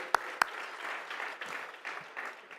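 An audience at a NALEO conference breakfast plenary on Latino economic growth applauds a panel. Two sharp claps stand out at the start, then a steady, moderately loud wash of clapping continues with no talk.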